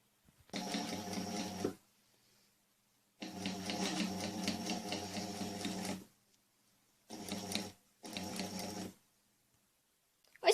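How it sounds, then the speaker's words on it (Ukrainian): A sewing machine stitches a fabric toy sheep in four bursts of rapid mechanical whirring, two long runs and two short ones, separated by quiet pauses, close and alone. "Шиваємо за допомогою швейної машинки."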